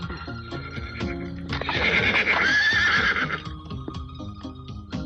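A horse lets out a loud, drawn-out neigh in the middle while hooves clop in a steady rhythm before and after, close and clear with no talking.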